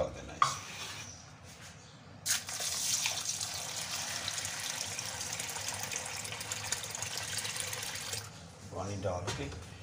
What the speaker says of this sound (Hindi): और पानी डाल देना है इसमें।